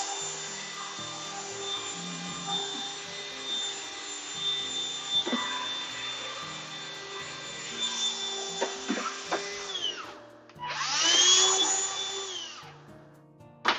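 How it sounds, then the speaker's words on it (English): A vacuum cleaner runs indoors over a tabletop, sucking up plush crumbs: a steady whining drone with rising and falling pitch as the nozzle moves, a brief cutout near the end, then a loud surge, close and alone. "let's get this tabletop hoovered of all of its plush crumbs"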